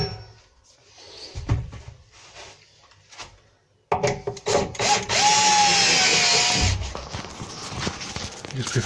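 A power driver with a Phillips bit whirs steadily to drive screws into wooden wardrobe carcasses, with clunks and handling knocks before and after the loud buzzing run.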